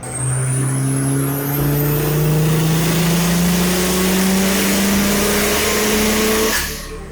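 A turbocharged budget Honda Civic engine revs on a dyno in one long, loud pull, its pitch climbing steadily before cutting off abruptly near the end.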